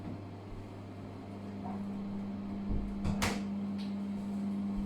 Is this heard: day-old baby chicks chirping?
no